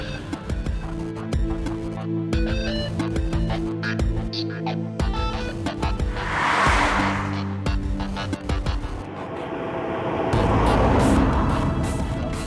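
A 2014 Mercedes-Benz CLA 45 AMG drives on the road, its engine and road noise rising and falling through gear changes and acceleration, with a brief surge of rushing noise midway and another swell near the end.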